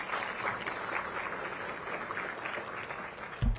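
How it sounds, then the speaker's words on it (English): A small-business crowd at a DC Chamber of Commerce event applauds, a soft, fairly distant wash of clapping holding steady for a few seconds, with a louder knock near the end. "So give yourselves a round of applause."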